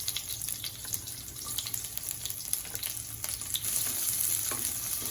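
Finely chopped onion with five-spice seeds frying in hot oil, a constant close sizzle dotted with small pops and crackles throughout, no voices.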